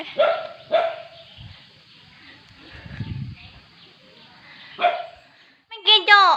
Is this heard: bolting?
no